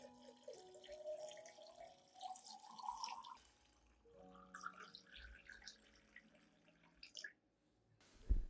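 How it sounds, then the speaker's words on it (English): Clean water poured into a diluted eggshell and rice solution for hydroponic orchids, a faint, close trickle and drip that comes and goes over several seconds. "Add 1 liter of clean water to dilute the solution."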